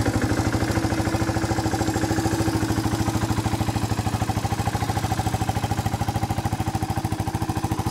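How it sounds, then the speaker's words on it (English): A Suzuki Goose 350 motorcycle engine idles close by with a steady, rapid, even thumping pulse throughout, and nobody speaks. "Engine runs nicely."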